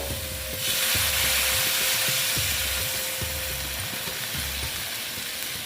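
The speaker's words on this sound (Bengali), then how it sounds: "আমি জলটা একবারেই দিয়ে দেবো যতটুকু লাগবে ততটুকু দিয়ে দিচ্ছি দেখো" Water goes into a pumpkin and potato curry frying in a pan, setting off a loud, broad sizzling hiss over steady stirring and scraping, close and with no talking.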